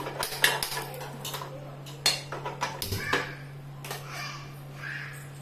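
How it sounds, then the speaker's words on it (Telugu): A metal pan set down on a kitchen stove while making brinjal fry, with several clinks and clatters of cookware and utensils over a steady low hum, close by and fairly quiet. "స్టవ్ ఆన్ చేసుకొని ఒక ప్యాన్ పెట్టుకొని"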